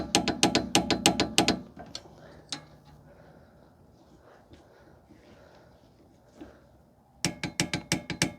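A ratchet tightens bolts on a 2005 Toyota Corolla rear hub assembly, with rapid bursts of loud clicking at the start and end and a quieter stretch of faint handling noises between.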